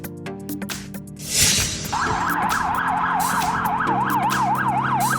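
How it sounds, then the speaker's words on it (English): A Belgian police car siren wails loudly and close, shifting into a fast, regular two-tone warble that holds steady after a brief burst of noise. "Belgian Police Car."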